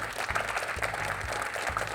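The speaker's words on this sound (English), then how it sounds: "I think you guys deserve applause and appreciation." Audience applause at a quiz show grand finale, fairly quiet and steady over a rhythmic low musical beat, lasting about two seconds.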